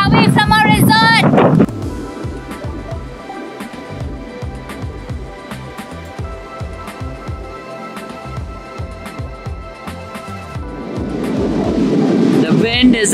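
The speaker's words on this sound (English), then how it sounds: "The wind is absolutely crazy." Strong wind buffets the microphone on a beach in the Philippines, a loud roaring rush that dips slightly in the middle and swells again toward the end, continuous throughout.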